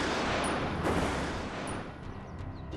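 A rifle volley from a firing squad of about five shooters, a dense burst of gunfire with crackling reports at close range and no talk.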